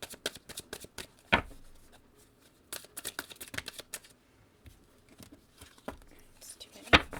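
Tarot cards shuffled in the hands in quick riffling bursts, close and crisp, with a few pauses and sharper snaps between the clusters of card noise.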